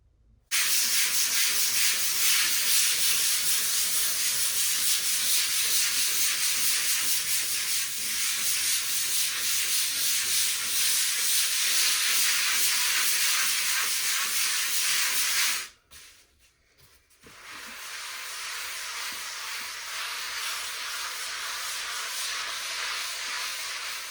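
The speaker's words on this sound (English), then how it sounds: "So I'll carry on working this in. We'll scrub this for 5-6 minutes." A pad scrubbing grout residue off textured porcelain tiles makes a steady, close, rasping hiss that runs on for about fifteen seconds, drops out briefly, then resumes; no one speaks.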